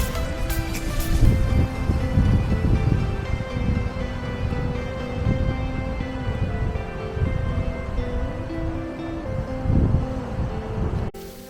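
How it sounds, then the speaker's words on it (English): Strong wind roars and buffets continuously for the whole stretch at a lakeside campsite, a dense blustery rush with a faint tonal hum under it. "So super windy."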